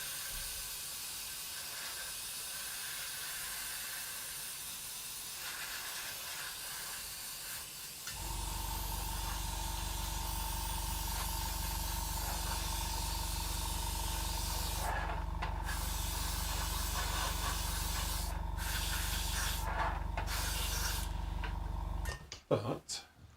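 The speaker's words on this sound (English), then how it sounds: "I just hit an extractor just for a sec" An extractor fan switches on partway through in an airbrush workshop, replacing a soft hiss with a loud, steady low hum and drone that runs to the end, broken only by a few brief gaps.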